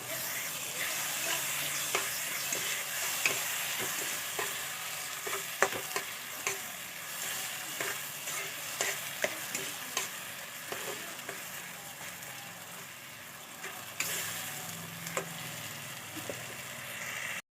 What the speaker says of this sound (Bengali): তিনটে বড় সাইজের টমেটোকে আমি পেস্ট করে নিয়েছি আবার ভালো করে কষাবো